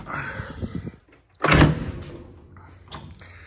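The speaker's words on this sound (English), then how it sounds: "Let me unlock this door." Car door with rotted rocker panels and pillar unlocked and opened, a few soft clicks and rattles, then a single loud thunk of the latch and door, followed by faint handling noise.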